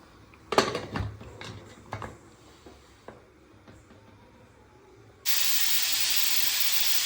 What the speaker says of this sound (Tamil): குக்கர் மூடி போட்டு இப்போ நாலு விசில் விட்டு எடுத்துக்கலாம்